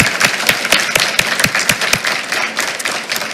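A room full of people at a school board meeting claps for an honoured student, sharp hand-claps ringing out fast and dense, loud and close, gradually thinning toward the end.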